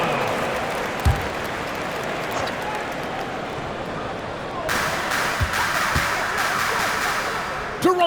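Arena crowd applause and cheering in the NBA 2K26 basketball video game, a steady wash of clapping that swells louder midway. An announcer talks over it, and a few sharp thumps stand out.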